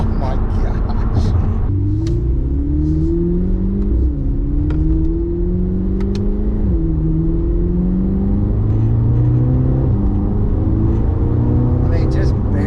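An 1120-horsepower Corvette C8 ZR1 accelerates hard through several gears, its engine pitch climbing and dropping at each shift in a steady sawtooth pattern, loud from inside the car with occasional voices.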